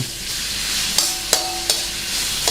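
Naem, Thai fermented pork, is stir-fried in a pan for fried rice with bird's-eye chilies, giving a steady close sizzle broken by a few sharp scraping clicks of a spatula.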